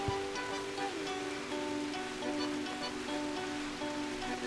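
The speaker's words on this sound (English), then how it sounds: "you can do the mouse over the waterfall to do that little water streamy thing" Waterfall stream in the video game Old Man's Journey, a steady rushing wash of water with soft layered game music tones running over it, no talk.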